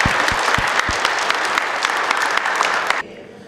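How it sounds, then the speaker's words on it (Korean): A congregation at a Korean church Sunday service breaks into loud, dense applause, a full steady roar of clapping hands that cuts off abruptly near the end, leaving a quieter room. "하나님께 영광의 박수 올리겠습니다"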